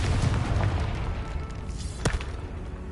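A Confringo spell explodes in the Hogwarts Legacy video game, a loud booming blast with rumbling low thuds throughout and a sharp burst near the end.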